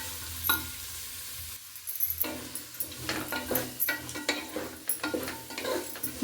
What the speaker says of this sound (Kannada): ಚೆನ್ನಾಗಿ ಸ್ವಲ್ಪ ಒಗ್ಗರಣೆ ಒಳಗಡೆ ಮಗ್ಗಬೇಕು ತರಕಾರಿಗಳು